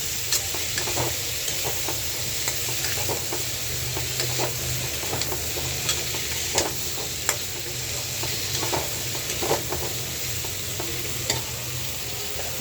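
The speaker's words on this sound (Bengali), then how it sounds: "ফুলকপি আলুটা লাল লাল করে ভাজা নেবে।" Cauliflower and potato pieces fry in hot oil with turmeric in a pan, sizzling steadily up close while a utensil stirs and scrapes in scattered clicks throughout, with no talking.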